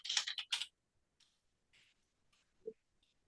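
Keys tapped on a computer keyboard as a change-directory command is entered, a quick burst of close, bright clicks followed by a few scattered, softer taps and a duller knock.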